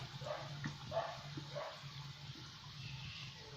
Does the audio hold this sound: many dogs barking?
yes